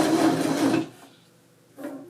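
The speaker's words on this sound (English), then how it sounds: "And we're going to sew forward through our fabric. And zigzag a back stitch here." A household sewing machine runs a zigzag back stitch through fabric in a short, busy mechanical burst that stops abruptly. Near silence follows, then a brief softer whir at the end.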